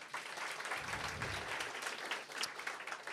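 Scattered audience applause at a comedy club show, a moderate crowd clapping fairly quietly with a few sharper claps standing out.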